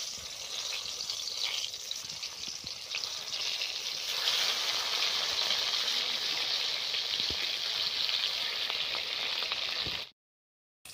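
Steady, loud sizzling of banana-leaf parcels frying in hot oil, a continuous crackling hiss lasting about ten seconds before cutting off abruptly.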